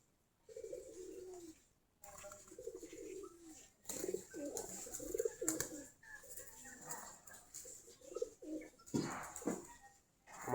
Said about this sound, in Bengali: আমাদের কবুতরগুলা সকালবেলা খাবার দিয়েছি আমি, খাবার খাচ্ছে সবগুলা।